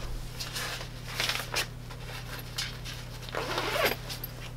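A zipper being pulled shut on a screen-printing screen drying bag, with several short quick rasping zips close by over a steady low electrical hum, and no talking.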